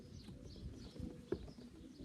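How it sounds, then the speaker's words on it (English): Pigeons, young flying birds and their parents, held in a cage, giving soft low coos and rustles up close, with one brief sharper note partway through. "I had a request to show the parents to my pigeons, my young birds that are flying at the minute."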